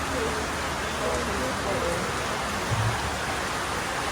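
Steady rain hisses continuously at a street food stall, a dense even wash with no pauses, quiet and constant throughout.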